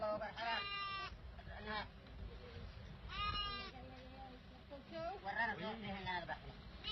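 Sheep and goats bleat repeatedly, close and loud, gathered before a wedding feast in Tihama, with a crowd's murmur underneath.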